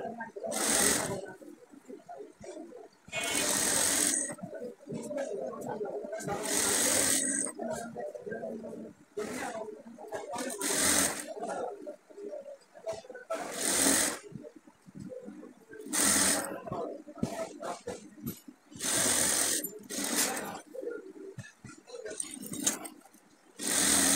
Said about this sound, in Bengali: এভাবে আমি একটা সেলাই দিয়ে নিলাম, সোজা একটা সেলাই দিয়ে নিব